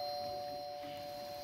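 A wireless battery-powered doorbell sounds a single sustained electronic ding-dong chime, clear and steady at close range, with no talk.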